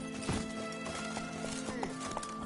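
Galloping horse hooves thud in quick rhythm in The Witcher 3: Wild Hunt, up close and steady over a humming game soundtrack.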